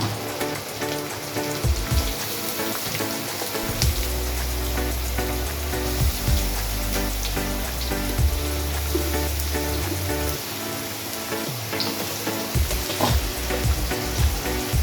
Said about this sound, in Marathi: कांद्यात असं किंचितचं मीठ टाकून घेऊया कांदा फ्राय करूया